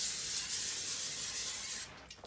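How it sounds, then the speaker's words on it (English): Pam cooking spray hissing onto a pan for meatloaf, a steady close spray for nearly two seconds that cuts off abruptly, followed by a faint rustle. "you want to spray your pan with some Pam."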